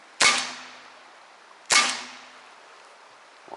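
An Umarex HDR 50 revolver firing paintball rounds gives two sharp, loud cracks about a second and a half apart, each with a short ringing tail, heard close in otherwise quiet surroundings.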